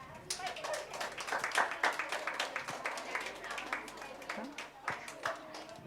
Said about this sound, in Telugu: మేడం గారికి ఒకసారి గట్టిగా క్లాప్ చేద్దాం.